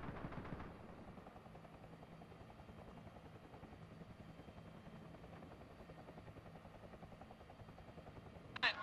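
A helicopter circles above a military vehicle convoy in a PvE shooter game, its rotor drone steady and continuous, moderately loud under faint background noise, with a sharp burst near the end.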